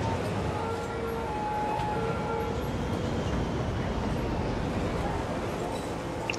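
A train in the city-building game Cities: Skylines passes along a busy line through a residential area, a steady rolling rumble of moderate level holding for several seconds, with faint tonal hints like a distant horn.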